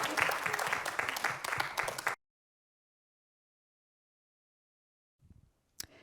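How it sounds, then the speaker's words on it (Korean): Congregation applauding at a church thanksgiving and praise concert, a loud, dense burst of clapping lasting about two seconds before cutting to silence, followed by a faint brief rustle and click near the end. "우리 시간 하나님 앞에 영광의 박수 올려드립니다"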